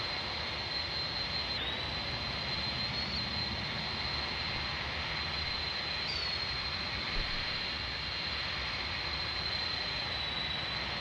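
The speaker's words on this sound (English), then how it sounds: "Sorry for the noise, but my engines are running full throttle" Aircraft engines held at full throttle in Microsoft Flight Simulator 2020, a steady loud broadband roar with a high whine that shifts pitch slightly, continuous throughout with no talk.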